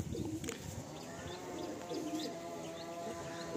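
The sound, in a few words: Giribaj pigeon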